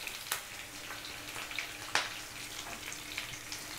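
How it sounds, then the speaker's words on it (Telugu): Onions and curry leaves frying in oil in a pan for Telugu nune gongura curry, a steady soft sizzle with a few sharp crackles and pops, fairly quiet and close, no talking. "ఈ ఆనియన్స్ కొంచెం ఫ్రై అవ్వాలి మనకి"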